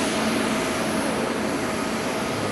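A China Southern airliner on the runway at Haneda airport, its jet engines producing a loud, steady, broadband roar with no break throughout, heard alone without voices.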